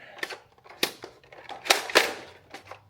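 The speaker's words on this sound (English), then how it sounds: "Ratcheting through the mag real quick." A Nerf N-Series Infinite blaster's magazine is ratcheted through quickly, a close run of sharp plastic clicks and clacks in an uneven rhythm.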